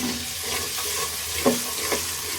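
Ginger garlic paste fries with onions in hot oil, giving a steady sizzle broken by a few sharp scraping stirs. No one speaks.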